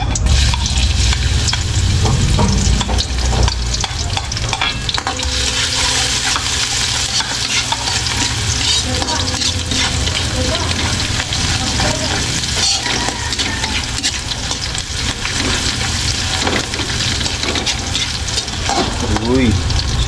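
Garlic sizzles and crackles steadily in a hot pan for the whole stretch, loud and close, with stirring scrapes and a voice speaking now and then over the frying.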